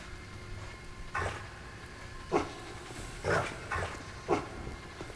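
Dog barks in the video game Dead to Rights: Retribution, five short gruff barks spaced about a second apart, moderately loud over a low background hum, with no talking.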